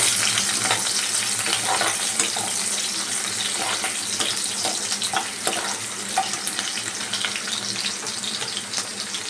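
Onions frying in a pan over a low flame for a fish kalia, a dense, steady crackling sizzle close by, continuous throughout with faint scraping stirs.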